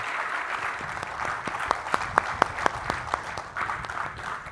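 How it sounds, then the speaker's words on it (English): An audience at the 2021 Edison Awards innovators forum applauds students with a short burst of scattered, moderately loud clapping that swells and then fades. "how about a round of applause for our students and our future?"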